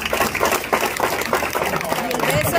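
Congregation clapping at a Christian wedding ceremony, a steady burst of applause from a crowd filling the room, with voices mixed in.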